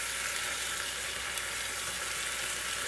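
Steak-umm sliced beef frying in a pan for Philly cheesesteaks, a steady, even, hissing sizzle that holds without pause, soft and close.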